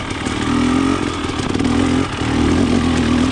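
A KTM 300 XC TPI two-stroke dirt bike, fitted with a TSP head and low-compression insert, runs steadily while being ridden. The engine drone is loud and continuous, with a slight lift in pitch toward the end and no voices.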